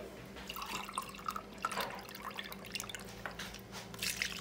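Liquid pours into a glass, a soft, steady trickle with faint dripping, fairly close and quiet, with no one talking.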